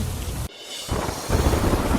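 Heavy monsoon rain pours in Gujarat, a loud, dense hiss that briefly dips and then returns even stronger, with no voices.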